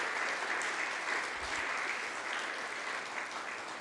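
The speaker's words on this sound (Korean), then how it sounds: "우리 박수." Steady applause from a church congregation at a Christmas Day service, dense and even for its whole length with no talk over it.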